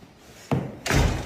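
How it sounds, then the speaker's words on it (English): A door slams shut twice in quick succession during a January winter storm, a sharp thud followed by a heavier, louder bang, both close by. "Close the door, watch out"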